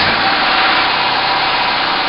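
Subaru Forester engine running steadily just after starting in a garage, a continuous close, loud mechanical drone with no voices.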